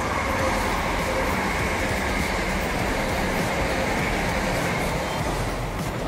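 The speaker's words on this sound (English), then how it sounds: "There's a train." Steady, heavy rumble of a train rolling past, loud and continuous with a broad roar throughout and no pauses.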